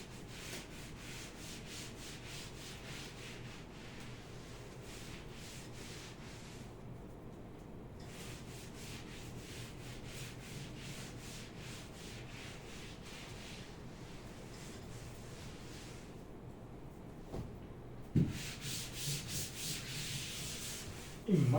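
Steady back-and-forth rubbing of writing being wiped off a board during a Class 12 maths lesson, a continuous scrubbing that runs alone through the whole stretch and ends in a few louder knocks.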